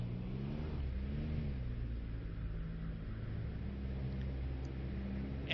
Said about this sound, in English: Alright, reversing engines.